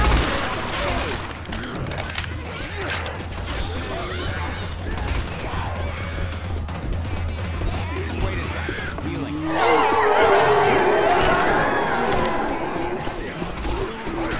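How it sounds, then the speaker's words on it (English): Rapid bursts of gunfire from the Left 4 Dead video game crackle continuously at close range, layered under a dense mix of game noise and players talking. "Stop shooting me!"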